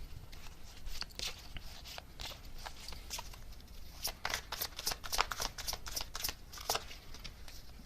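Tarot cards are shuffled for a reading in repeated quick riffling bursts, close and crisp, growing denser toward the end with short pauses in between.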